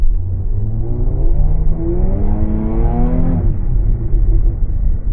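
A Jaguar F-Type in sport mode winds through neighborhood twisties, its engine revving up and down in a loud, close, continuous rumble with rising and falling pitch, no voices.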